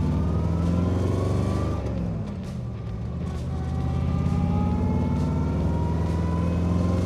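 A 1932 Ford hot rod engine with a T5 gearbox revs and settles between shifts, rising tones sweeping up over a steady close rumble, loud and continuous with no talking.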